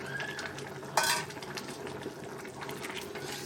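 A spoon stirs a vegetable curry of ridge gourd and potato with fried prawns in a pot, making scraping clatter with one louder metallic scrape, over a low simmering sizzle.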